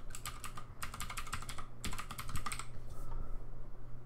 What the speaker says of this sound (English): And for the password, type in the password that you typed in earlier.